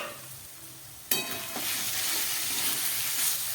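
Chicken and vegetables for an atta momo filling hit a hot pan with a sudden sizzle that settles into a steady, close frying hiss, broken by light stirring scrapes.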